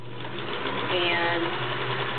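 A Kenmore model 1730 all-metal sewing machine runs with a steady, close, continuous mechanical whir that holds level throughout.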